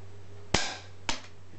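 A Relum Slavia 618 .177 air rifle fires pellets in two sharp, close cracks about half a second apart, each with a brief decaying tail over a low steady hum, with no voices.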